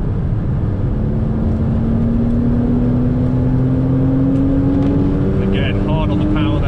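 Porsche Boxster S driven hard on a race track, its engine pulling loudly and steadily with a rising tone as it accelerates toward about 90, under continuous talk from the driver.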